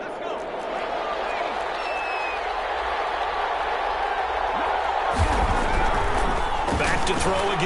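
A stadium crowd in a PS4 football game swells into a loud roar of disapproval at a penalty call, rising sharply near the end after a steady background murmur.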